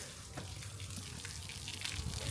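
Water poured onto the ground before drawing a rangoli, a faint, steady splashing wash that runs throughout with no voices.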